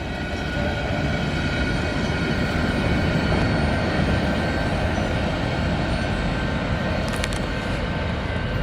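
A CN freight train hauling new Richardson hopper cars rolls past in Battle Creek, Michigan, a loud continuous rumble and steel-wheel roar with a brief high squeal near the end, no voices.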